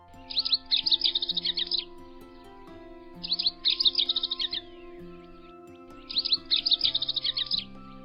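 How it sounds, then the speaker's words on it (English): A male rufous-crowned sparrow sings three short, bubbly, rapid trilled phrases spaced a few seconds apart, clear and fairly near over a faint musical drone. "Male rufous-crowned sparrows sing a short, bubbly song reminiscent of that of a house wren."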